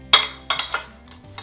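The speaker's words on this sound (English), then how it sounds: "we're gonna take our bowl and then we're gonna just break the yolks and mix all of our ingredients" A fork knocks against a bowl while mixing eggs with the broken yolks and other omelette ingredients, producing a few bright, ringing clinks spaced unevenly and close by.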